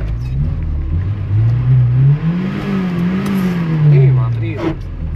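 A Lamborghini engine revs steadily, its low droning note rising and falling over several seconds, with people talking throughout.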